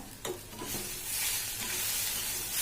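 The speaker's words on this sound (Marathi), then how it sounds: "हे बघा असा भाजून झालेला आहे आपला आता कांदा" Onion roasts in a pan with a continuous close sizzle and stirring, swelling slightly louder toward the end with no voices.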